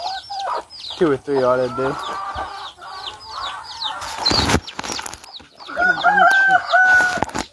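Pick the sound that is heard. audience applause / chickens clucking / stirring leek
chickens clucking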